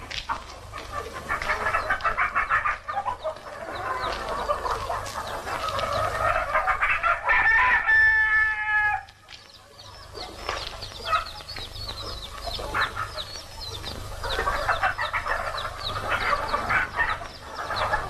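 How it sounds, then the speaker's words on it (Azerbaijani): Chicks cheep and cluck steadily and fairly loudly for about eighteen seconds, with a brief run of higher, thin tonal calls partway through. "Ay mənim cücələrim, ay mənim cücələr, cip cip cücələrim, cip cip cip cip cücələrim"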